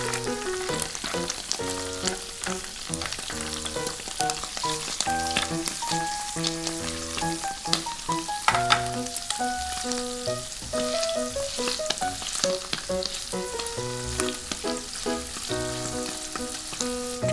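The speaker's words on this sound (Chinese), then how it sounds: "再使用铲子翻面，继续煎，煎至两面都变成金黄色。" Tofu pan-fries in oil until golden on both sides, a close, steady sizzle and crackle that goes on throughout with light spatula scrapes and no speech.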